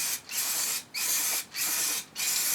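Four short bursts of aerosol spray paint hissing onto Triumph Scrambler motorcycle heat shields, each lasting about half a second with brief gaps between, close and fairly loud.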